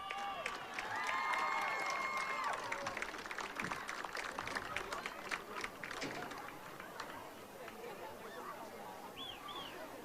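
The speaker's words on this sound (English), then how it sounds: "Once again, a round of applause" Crowd clapping and cheering in a stadium during a homecoming royal court at a high school football game, a burst of applause that fades over several seconds, with a few whistles and a voice over the crowd.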